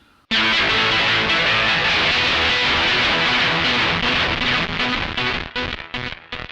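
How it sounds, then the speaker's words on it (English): A loud, dense wall of fuzzy distorted electric guitar through a gated fuzz pedal sustains, then chops off abruptly into short gated bursts near the end. "on the Total I use it with the stop, which is also a gated fuzz"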